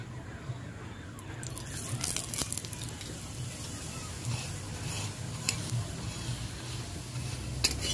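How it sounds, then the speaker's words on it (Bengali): Fenugreek-leaf parathas fry in a pan, a steady low sizzle with occasional scraping and stirring clicks, close up and continuous throughout. "পরোটাগুলো আমি এপাশ ওপাশ দুপাশ ভালোভাবে ভেজে নেব"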